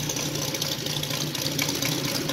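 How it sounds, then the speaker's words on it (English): A 260cc model engine running on a test stand, a steady fast buzzing hum with a rough, slightly rattling edge, continuous and even in level, no voices over it. "And here is the engine."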